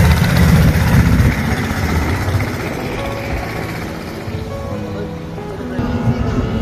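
A dinghy boat's engine drones steadily on the Padma river, a continuous low rumble that holds at a fairly loud, even level with a faint watery wash around it.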